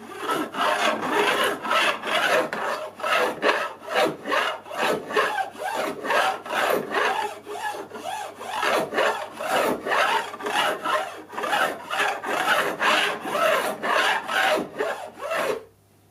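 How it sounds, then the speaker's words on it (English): A metal fret file rasps along the edge of a new guitar fingerboard neck at about 45 degrees, in repeated close, steady back-and-forth strokes with a gritty scraping texture. "it's a fret file for doing the edges, and run it along the side at about 45 degrees"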